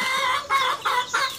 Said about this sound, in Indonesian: Ayam beraya.